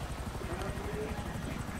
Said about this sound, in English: they're sending a helicopter after me